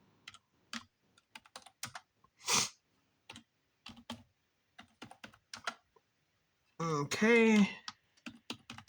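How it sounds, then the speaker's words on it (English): Someone types on a computer keyboard in short, irregular bursts of clicks, broken by pauses, with one brief spoken word near the end. "Let me go and type in his name here."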